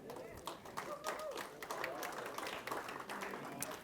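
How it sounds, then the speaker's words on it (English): Scattered clapping from a morning crowd of about 75 people gathered the day after Thanksgiving, uneven and moderately loud, with irregular sharp claps overlapping at close range across the whole stretch. "I don't know what the hell you're clapping for."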